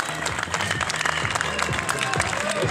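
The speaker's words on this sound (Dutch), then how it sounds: "De winnaar, dames en heren, de handen op elkaar voor Jarno Wielaar." A crowd applauds the winner of an under-19 spring bike race, with steady, dense clapping throughout and an announcer's voice over the top.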